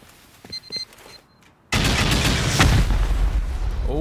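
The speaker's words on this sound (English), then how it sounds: "going to toss like five C4 off onto the armored, and then we'll shoot the rockets while those are going off" C4 charges and rockets explode against an armored bunker in Rust, a few clicks and small thuds, then a sudden massive roaring blast sustained loudly for the remaining seconds.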